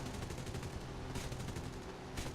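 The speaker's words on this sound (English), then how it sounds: "it's not the worst strafing run I've done on a convoy" Guns of an F2A-1 Buffalo fighter strafing a convoy in War Thunder, a loud rapid continuous rattle of machine-gun fire with a brief lull partway through, no talking.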